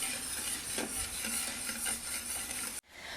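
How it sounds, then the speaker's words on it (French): Sugar syrup with a cinnamon stick stirred in a pot, a steady soft scraping swish with a few louder strokes, running without talk before cutting off abruptly near the end. "on continue de mélanger pour bien dissoudre le sucre"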